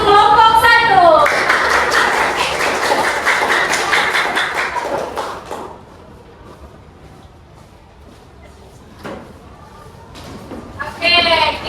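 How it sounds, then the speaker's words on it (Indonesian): A classroom audience of teachers gives lively applause for a student group, dense clapping for about five seconds, then quieter room noise, with talk at the start and end. "tepuk tangan yang meriah untuk kelompok 1"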